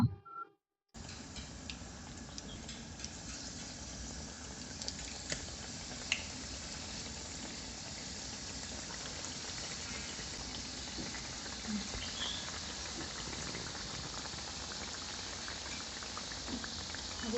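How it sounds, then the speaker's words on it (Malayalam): Potato slices dipped in batter bubble and crackle in hot oil as potato bajji, a dense, even fizz that holds steady for the whole stretch after a short pause at the start, with no voices. "എണ്ണ നന്നായി ചൂടായി കഴിയുമ്പോൾ മാവിൽ മുക്കിയ പൊട്ടാറ്റോ ഇതുപോലെ നമ്മൾ ഇട്ട് കൊടുക്കണം"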